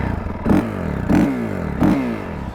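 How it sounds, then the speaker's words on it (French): A road-legal Honda CRF 450 supermoto's single-cylinder engine idles nearby and is blipped three times in an even rhythm, each sharp rev rising and dropping quickly back to a lumpy, rattling idle. "Si je vous démarre la moto ici"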